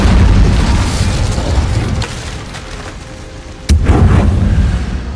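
A loud Incendio fire spell blast in Hogwarts Legacy, a heavy booming burst that rumbles and fades over a couple of seconds before a second sharp blast hits and roars on.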